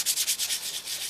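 Rapid back-and-forth sanding strokes on a Valentine Mama doll make a rhythmic, scratchy hiss about five strokes in one second, close and alone.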